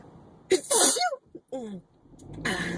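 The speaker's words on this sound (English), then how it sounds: "I'm gonna sneeze, so hold on a second" A single loud, close sneeze bursts out, followed by a brief pause and then someone speaking.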